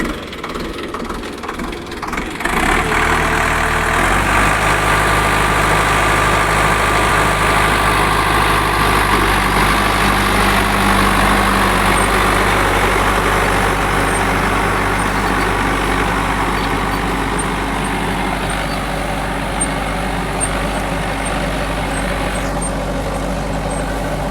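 A tractor engine idles loud and close after a brief quieter start, a steady low rumble with an even drone that holds unchanged for the rest of the stretch.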